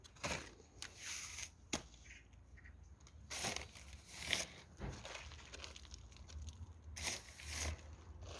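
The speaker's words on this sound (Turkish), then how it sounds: "Biraz daha toprak ekleyebiliriz üstüne." Soil is added by hand over a fresh cleft graft on a cherry tree, giving quiet, close crumbly rustles and crunches in irregular bursts with short gaps between.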